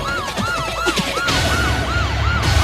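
A wailing police siren cycles steadily up and down, loud and close, with a rhythmic yelp pattern and traffic rumble underneath.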